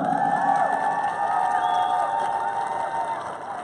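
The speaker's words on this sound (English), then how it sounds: "Let's have a round of applause for them." Crowd at a high school girls' varsity basketball game in a gym, cheering and whooping over clapping, loud and sustained with a slight fade toward the end.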